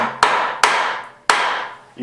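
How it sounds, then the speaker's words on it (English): Three sharp, loud metallic impacts, each followed by a long ringing decay, as a tool is struck like a hammer against a stuck alternator bolt during a Honda D16Y8 VTEC engine rebuild. "if you hit on it like a hammer like that, you won't be able to get this bolt out"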